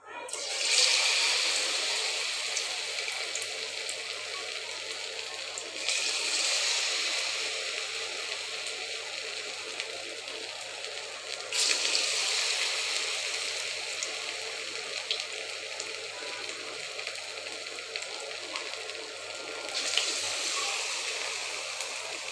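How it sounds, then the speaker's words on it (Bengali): Cauliflower pakoras frying in hot oil give a steady bright hiss and sizzle close by, with a few louder surges as pieces go in, continuing without talk. "তেলটা গরম হয়ে গেছে, এখন ফুলকপিগুলো এক এক করে দিয়ে দেব।"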